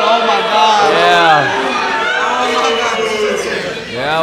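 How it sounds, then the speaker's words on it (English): A packed house at a fight club event, SPD vs Kelvin, filled with loud, dense crowd chatter while several voices talk prominently close by. "we got a house full of people right here"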